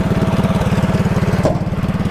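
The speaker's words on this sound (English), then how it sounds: "I'll shut the engine off and we'll start again" A vintage 1980s UTV engine runs steadily nearby, a loud, even, rapidly pulsing putter with no voices.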